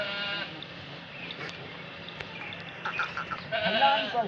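Goats with young kids at a farm sale, bleating in a few short calls at moderate distance, with a louder cluster of bleats near the end over steady background noise.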